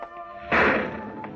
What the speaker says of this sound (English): the sound you hear is the far-off thunder made of heat and air currents and stratosphere